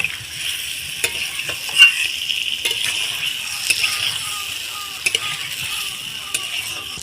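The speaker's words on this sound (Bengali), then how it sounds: "এই মশলার সাথে এই সিদ্ধ আলুটা একটু কষিয়ে নেব" Boiled potatoes fry with spices for Kashmiri aloo dum, making a soft, steady sizzle. A utensil clinks and stirs against the pan now and then, with faint background sounds.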